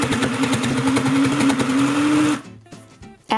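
A kids' toy sewing machine that stitches without thread runs in a steady mechanical buzz while doing spot stitches on an eyeglass case, loud and close, then stops abruptly with a few brief whirs and clicks.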